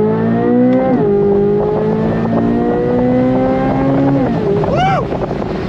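A convertible car's engine roars loudly from inside the cabin under wind rush. Its pitch climbs through rising revs with brief dips at gear changes, then drops off near the end.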